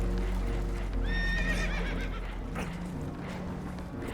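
Horses whinny in alarm over a steady low rumble, with a shrill neigh rising midway and restless hoofbeats underneath, in the video game Red Dead Redemption 2, aboard a vessel taking on water.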